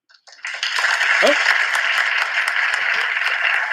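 A live audience at a Saturday singing show breaks into steady applause and cheering, a broad wash of clapping that swells in and holds near, with a brief voice under it.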